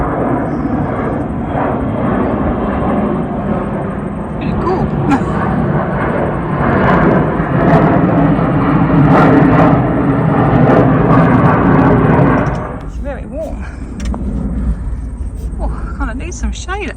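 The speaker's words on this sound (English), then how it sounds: "there's like a plane just landing in there." An airplane landing nearby at Queenstown, a loud broad engine roar that swells and then drops off abruptly, heard outdoors with people talking over it.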